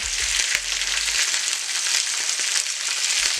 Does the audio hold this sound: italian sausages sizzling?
yes